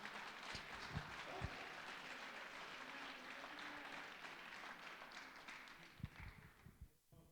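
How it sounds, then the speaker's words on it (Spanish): Congregation clapping in a church service after a call to praise God, a steady dense wash of applause that runs through and thins toward the end, with a few sharper claps. "Palmas a nuestro Dios."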